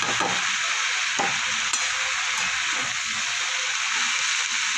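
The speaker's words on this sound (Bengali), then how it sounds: "একটু নাড়াচাড়া করে নেবো," Kulekhara leafy greens, cooking in a pan with fried potato and eggplant, give a steady close sizzle. Stirring and turning add occasional scrapes and clicks over the frying noise.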